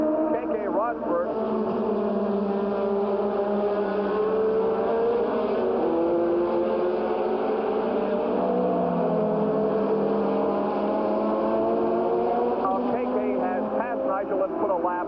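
Formula 1 race cars battling for position at the 1985 Italian Grand Prix, a steady high-pitched engine drone with rising and falling tones as cars pass, continuous throughout, heard over a trackside broadcast feed.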